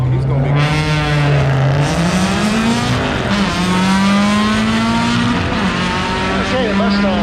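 A Mustang and a Honda launch off the line at a drag strip, engines revving hard with a loud, sustained harmonic roar that climbs in pitch through gear changes, close and dominant, with voices talking underneath.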